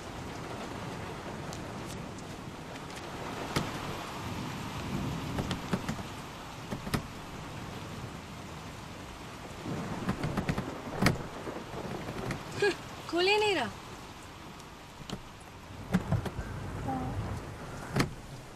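Rain and a thunderstorm heard from inside a stalled car, a constant steady hiss of rainfall throughout, with occasional louder bumps and a brief squeak partway through, faint and continuous.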